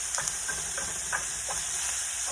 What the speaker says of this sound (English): So we're going to cook our hamburger up